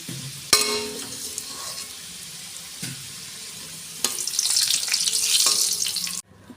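Potato pieces frying in hot oil for a home-style chicken kosha, a steady close sizzle with a few sharp pops and clinks, building to a brighter, louder hiss in the last seconds before cutting off.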